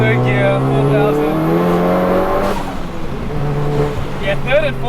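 A 700 hp big-turbo Audi S1 hot hatch pulls hard in third gear, its loud, continuous engine roar climbing steadily in pitch with a brief dip partway through before building again.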